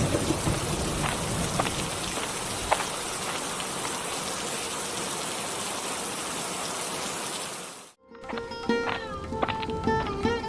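Steady rain pours down in a cartoon village scene, a dense, even patter for about eight seconds before cutting abruptly to a different tonal sound.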